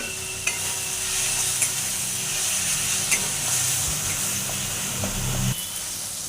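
Spice paste for an egg and cauliflower curry sizzles in a pan with a strong, steady hiss, while occasional stirring knocks and scrapes sound close and clear over the frying.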